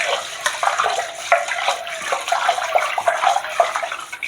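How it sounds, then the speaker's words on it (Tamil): Water runs from a kitchen sink in a steady, splashing stream that stays close and fairly loud, with no talking. "சிங்கிலேருந்து தண்ணி ஒழுகும் போல்."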